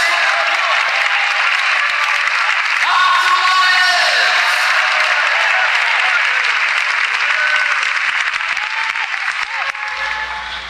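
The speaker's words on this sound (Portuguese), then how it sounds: "E as palmas com glória a Deus" A church congregation claps in praise during a worship service, loud sustained applause filling the room with scattered whoops and raised voices, tapering off near the end.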